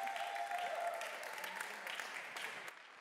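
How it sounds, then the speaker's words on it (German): An audience at a German science slam championship final applauds a contestant, a dense wash of clapping that holds steady and then fades slightly toward the end. "Wir machen nochmal einen großen Applaus für die erste Starterin"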